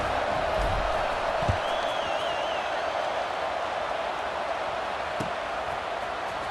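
Large football stadium crowd at a USC versus Iowa game, a steady broad roar of murmuring spectators with a few sharp claps or thuds, subdued rather than cheering.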